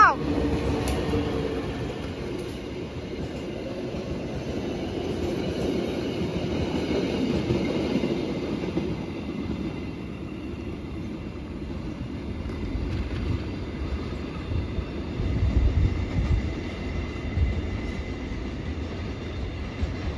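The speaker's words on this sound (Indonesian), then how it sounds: "KLB rel lintas Bangil Sumber Wadung telah melintas langsung di stasiun Rejoso." An extraordinary KLB rail inspection train runs straight through Rejoso station on the Bangil line, a rumbling pass with clattering wheels and a swelling low roar, heard from trackside with voices talking.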